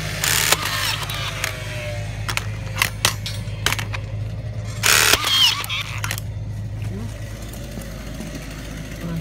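A battery-powered rebar tying tool working on rebar at a house build, giving repeated short mechanical whirring and clicking bursts with one louder longer cycle midway, close by over a constant low hum.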